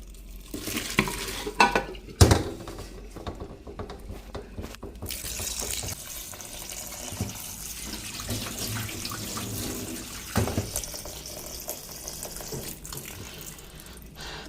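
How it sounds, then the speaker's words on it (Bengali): Water from freshly boiled pasta draining off, a steady pouring and splashing rush with a few knocks of the pot near the start, close and continuous with no talking. "এখন আমি চুলাটা বন্ধ করে দিচ্ছি এবং পানি ঝরিয়ে নিচ্ছি"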